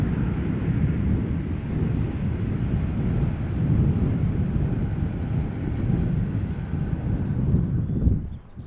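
Twelve-year-old Airbus A330-200 arriving at Amsterdam Schiphol Airport, a steady broad jet roar heard from a distance with wind rumble, holding level for several seconds before easing off at the end.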